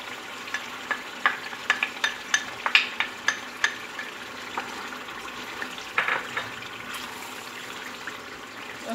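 Chicken karahi frying in a pan as yogurt is stirred in, with a steady soft sizzle under a series of sharp spoon clinks and scraping taps against the pan, close and moderately quiet.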